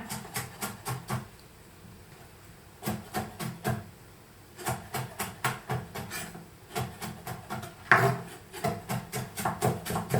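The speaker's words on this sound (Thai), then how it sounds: "เดี๋ยวเราจะสับขิงให้ละเอียดเลยนะ" Sharp knife chops mincing ginger on a wooden cutting board in quick bursts of rapid taps, separated by short pauses, close and fairly loud.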